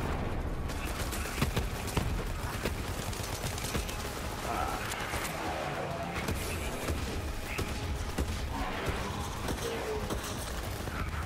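Gunfire during a Borderlands 3 boss fight, a steady barrage of shots and impacts mixed with game effects, continuous and moderately loud, with players chatting over it.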